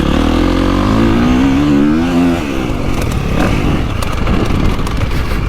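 A KTM 350 dirt bike fitted with an Akrapovic exhaust rides close by, its engine revving up through rising pitch then dropping and pulling hard again, loud and continuous with no talk.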